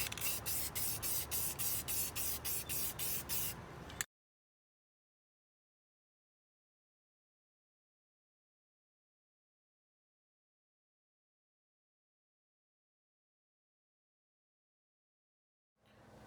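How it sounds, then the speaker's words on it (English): Aerosol spray paint hissing onto a stainless steel tumbler in a series of short, evenly spaced bursts for about four seconds, close and fairly loud, followed by long silence. "I did a couple of coats of the spray paint"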